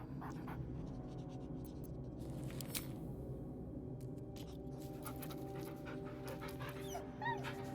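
A dog in the video game Baldur's Gate 3 pants steadily at close range, with light scratching and shuffling movements and a few soft clicks over a constant low ambient hum.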